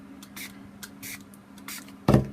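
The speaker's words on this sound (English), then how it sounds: "And then you just spray to get the colours to blend." Several short hissing bursts from a spray bottle misting an art journal page to blend colours, close and fairly soft, spaced irregularly over a low background hum, with a heavier thud at the end.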